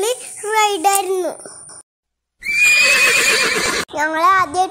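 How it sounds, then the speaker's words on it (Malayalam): A horse pulling a tourist horse cart at a dam park neighs loudly and close in several shrill whinnies, with children and adults talking and exclaiming around it. "ഞങ്ങൾ ആദ്യമായിട്ടാണ് കുതിര വണ്ടിയിൽ കയറിയാ."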